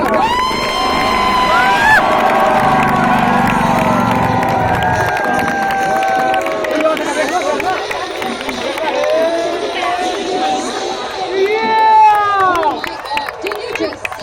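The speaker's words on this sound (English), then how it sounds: "a big round of applause for the line." A large crowd at a defense expo helicopter stunt show in Lucknow cheers, whistles and shouts loudly, with excited voices and whoops rising and falling throughout.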